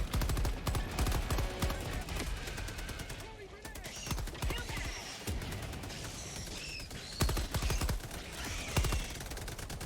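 Turret gunfire in Helldivers 2, dense rapid bursts rattling through most of the stretch alongside other battle noise, with voices talking over the action.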